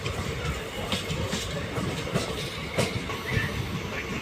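A passenger train on the Dhola to Veraval line pulls into Vadal station, its carriage rumbling with steady clickety-clack wheel beats and occasional squeals, heard from inside at moderate volume.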